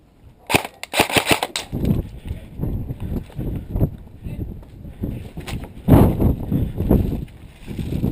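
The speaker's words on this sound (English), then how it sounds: "I hear lots of BBs being fired through the windows around me" Airsoft rifles, including a VFC Scar-L, crack off in sharp bursts and single pops during an indoor building game, BBs striking around windows among scuffling, movement and background noise.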